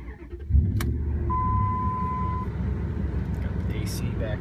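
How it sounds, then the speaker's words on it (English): A truck runs fast along a highway with the windows down, giving a steady road and engine roar with wind buffeting. A brief tonal beep and a few clicks sound over it. "Driving up the highway going quick."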